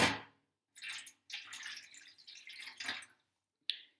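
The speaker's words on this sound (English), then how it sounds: "Okay, so I'm going to add a bit more water." Water splashes and trickles into a shallow tray at home in several uneven bursts with short gaps between them, ending in a brief final drip.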